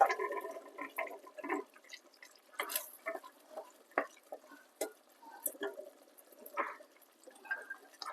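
Boiled chickpeas are tipped into a pan and stirred for chickpea biryani, giving faint, intermittent wet scrapes, soft clinks and squelches with quiet gaps between them, and no talking.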